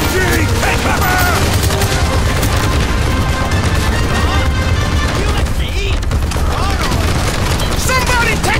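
Machine gun fire and explosions roar through a firefight in the Call of Duty Black Ops video game, a dense continuous barrage of loud bursts and booms with shouted voices mixed into the battle.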